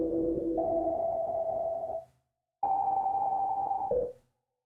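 Outgrowth synth sample played in reverse, two sustained tonal notes each about two seconds long with a pitch step, separated by a short gap, loud and clear with no talking.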